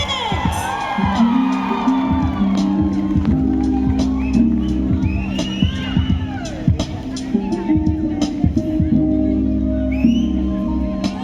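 A crowd cheering for a contestant at the Miss and Mr Ri-Bhoi college pageant: repeated whoops and shouts over a steady hubbub, with a sustained musical tone underneath.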